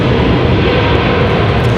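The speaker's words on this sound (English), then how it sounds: "Southwest coming in from Tampa" A Southwest airliner inbound from Tampa to land at Raleigh-Durham International, a steady broadband jet roar held at constant loudness throughout, continuous and close with no voices.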